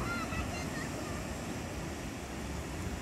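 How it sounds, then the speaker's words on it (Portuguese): Sea waves breaking on rocks along a shallow shoreline, a steady, broad wash of surf and spray with no distinct separate crashes. "onde o mar quebra as ondas e traz a água e fica raso"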